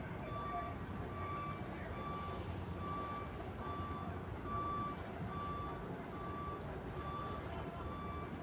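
A truck reverses off a barge, its backup alarm beeping in a steady, evenly spaced series over a constant rumble of engine and outdoor noise, with people talking in the background.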